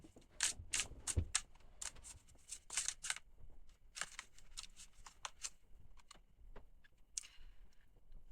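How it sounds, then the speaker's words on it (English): Quick shuffle of a deck of tarot-style cards during an intuitive reading, a run of soft, rapid riffling clicks and flicks in irregular bursts, close but quiet. "I'm just going to give them another quick shuffle before I receive one from the deck."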